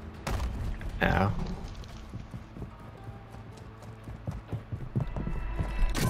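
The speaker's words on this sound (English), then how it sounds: "I could kind of hear footsteps a little bit right now" Footsteps in a video game, a run of soft thudding steps at an uneven pace under continuous game noise, with one sharp louder burst near the start.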